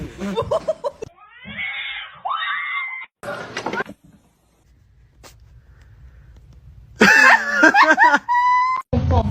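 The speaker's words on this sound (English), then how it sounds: "Look at this little kitten." A kitten lets out several drawn-out, wavering meows, some rising into strained cries, with bursts of people talking and exclaiming around them.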